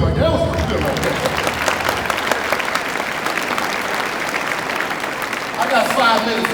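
An audience claps throughout a Veterans Day speech, loud and dense like a room-wide ovation, with some crowd noise mixed in.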